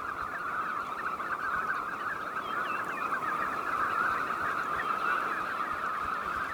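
A huge flock of knot shorebirds gathers over an Arctic fjord in late May, a dense, steady chorus of overlapping calls and chatter filling the air throughout, with no voices.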